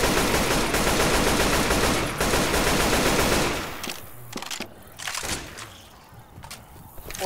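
Rapid, dense automatic gunfire in the zombie shooter Left 4 Dead 2, loud and continuous for a few seconds, then thinning to scattered shots as the fire tapers off.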